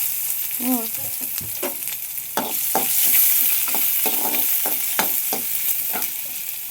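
Dried chili and onion sautéing in oil with cumin for a drumstick-leaf stir-fry, a close sizzle broken by a series of sharp spatula knocks and scrapes, some in quick succession.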